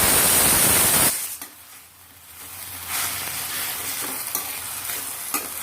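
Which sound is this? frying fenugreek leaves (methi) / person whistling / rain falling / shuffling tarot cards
frying fenugreek leaves (methi)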